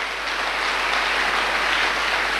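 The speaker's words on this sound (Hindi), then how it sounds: "बजा लीजिए ताली।" Audience applause from a crowd at a business motivational speech, a steady dense clapping wash that fills the whole stretch without talk.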